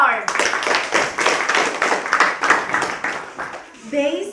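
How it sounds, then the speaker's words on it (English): Hands clapping in steady audience applause to welcome a jury chairwoman at a school ceremony, dense and continuous for about four seconds before fading out. "let's welcome the chairwoman of the jurors with an applause, Miss Geraldine Kadar."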